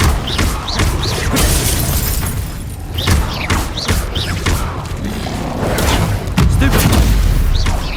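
Spell blasts from Confringo and Bombarda in Hogwarts Legacy burst as repeated loud booms and crashing impacts, a chaotic volley of explosions layered with a player's shouted incantations.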